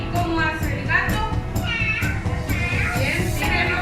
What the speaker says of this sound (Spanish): ¿Y cómo hace el gato?